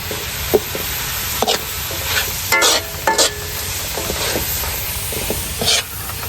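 Food frying in a pan on a rural Filipino stove: a continuous loud sizzle with repeated scraping strokes of a spatula stirring, close and steady throughout.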